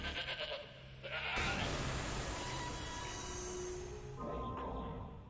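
A goat head bleats in the horror video game Shadows of the Damned, a loud wavering cry that swells and holds for a few seconds over game noise and rumble.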